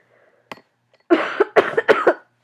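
A person with a bad cold coughs several times in quick succession, loud and close, after a brief faint throat noise, with silence in between.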